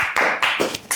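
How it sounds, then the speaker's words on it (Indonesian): A few sharp hand claps, about four in quick uneven succession, sound close and fairly loud in a small room. "Tepuk tangan"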